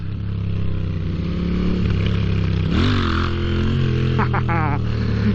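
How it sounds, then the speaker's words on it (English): A Moto Guzzi V7 motorcycle engine running loud and close, with a steady low burbling exhaust note, a rev surge near the middle and a few quick pops near the end. "I've made my bike pop and burble."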